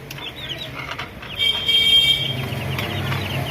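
A chicken gives a few short clucks and squawks close by, over a noisy outdoor background with faint traffic.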